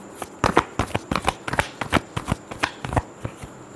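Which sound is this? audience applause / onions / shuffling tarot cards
shuffling tarot cards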